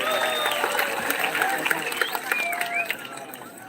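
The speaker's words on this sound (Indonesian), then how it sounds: "Tepuk tangan untuk kita semua." Audience applause rises at the closing ceremony of the 44th Bali Arts Festival in 2022, a steady wash of clapping mixed with crowd noise and thin whistle-like tones, with voices heard beneath it.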